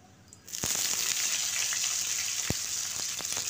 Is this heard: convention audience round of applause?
no